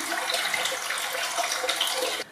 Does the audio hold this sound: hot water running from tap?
yes